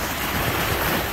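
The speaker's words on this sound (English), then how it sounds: "Waves crashing on them." Ocean surf breaks against a rocky Rhode Island shore during tautog fishing, a dense continuous roar of crashing water mixed with wind, loud and close, without voices.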